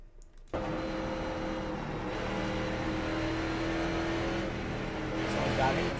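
Race car engine in an iRacing street stock race, a steady loud droning whine that starts abruptly after a brief pause and holds at high revs throughout, with a voice talking over it.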